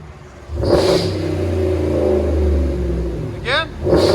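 RAM 1500 with a 5.7L HEMI V8 revving through a Flowmaster Super 10 race muffler, a deep close rumble that swells and holds, with people talking briefly at the start and near the end.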